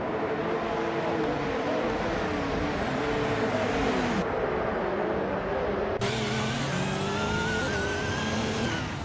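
Audi R18 e-tron Quattro 2014 hybrid LMP1 race car in a racing video game, its engine droning loudly and steadily with pitch shifts as it shifts gears and accelerates, without pause.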